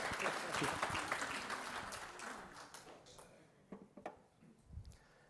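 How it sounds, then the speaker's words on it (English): A live audience gives a motivational stage talk a big round of applause: a burst of clapping starts full and loud, then thins and fades, ending in a few scattered claps. "Give a big round of applause for Ian, everyone."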